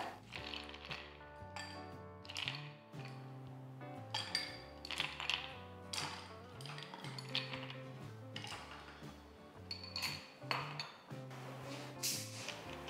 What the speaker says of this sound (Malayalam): ഇനി ഇതിലേക്ക് നമുക്ക് ഐസ് ക്യൂബ്സ് ആവശ്യത്തിനിടാം.